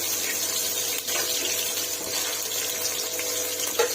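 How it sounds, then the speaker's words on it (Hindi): Peas are washed under a steadily running tap, with a continuous hiss of flowing water splashing into a sink. No one speaks. "हम इसको मटर को धो लेते हैं, अच्छी तरह से वॉश करते हैं"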